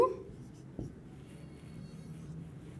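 Numbers written out one after another in a maths lesson, a soft scratch of pen or chalk in short strokes, quiet and close, with a faint low room hum.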